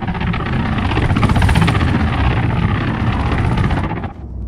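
Gunship helicopters in the video game Arma 3 roar steadily throughout, a loud, dense rotor and engine rumble with fast rotor chop, fading slightly near the end.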